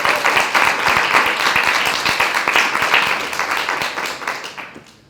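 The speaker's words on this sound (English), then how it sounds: "The first round of applause goes to this man right over here" An audience at a human rights forum on the death penalty bursts into loud, close applause, with distinct individual claps in a dense crowd that slowly fade away toward the end.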